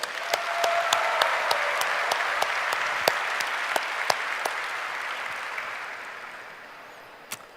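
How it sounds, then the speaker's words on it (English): Audience applause at a Google Developer Days event in India, a steady wash of clapping from a large crowd with a few sharper nearby claps standing out, slowly fading toward the end. "let's give them a warm applause"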